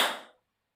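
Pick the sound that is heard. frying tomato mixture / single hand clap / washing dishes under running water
single hand clap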